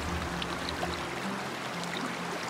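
Steady, loud rushing of a flowing stream in the hunting game Way of the Hunter, deep in a small valley between embankments; a continuous, even wash of water carries on throughout with no talk.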